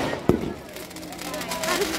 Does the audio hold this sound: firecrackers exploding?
yes